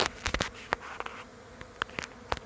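A honeybee swarm buzzes nearby as individual bees fly close past, giving a soft droning hum punctuated by several brief, louder passes.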